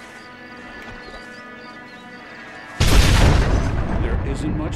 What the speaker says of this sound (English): I just see explosions.